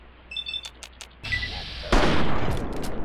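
Shotgun blasts in Fallout 3 combat against a raider: a loud, broad burst, then heavier sustained firing noise rolling on for over a second, with fainter clicks and sharp transients before it.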